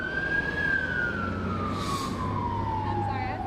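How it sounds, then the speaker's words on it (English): Wailing fire truck siren sweeping slowly downward in pitch as it passes on a street in North Austin, loud and continuous over traffic rumble, with a faint voice beneath. "that's why I didn't want to talk with that fire truck"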